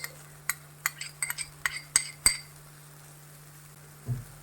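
A spoon clinks against a bowl while soy and oyster sauces are mixed for chilli chicken, about ten sharp taps in an irregular run, then a soft thud, in a quiet room.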